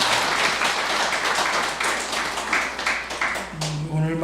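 A church congregation claps steadily for a few seconds for the choir during a Sunday service before the applause fades and a voice begins to speak.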